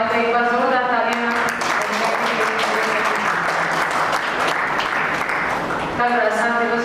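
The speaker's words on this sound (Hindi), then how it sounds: "तो एक बार जोरदार तालियां।" Audience applause for Monika at a poetry and arts festival stage, a steady wash of clapping from a gathered crowd, with a voice speaking over it at the start and again as it fades near the end.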